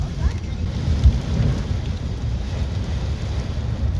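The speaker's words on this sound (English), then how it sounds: "It is raining. Oh, okay, lightning." Steady rain falling during a tropical storm, a dense hiss with low rumbling underneath that could be distant thunder, and a soft thump near the start.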